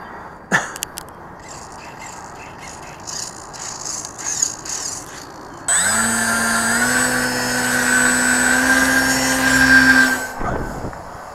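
An electric motor on a model airplane rebuilt from smashed planes starts abruptly after some light handling noises, then runs as a loud, steady whine with a rising pitch for several seconds before cutting off.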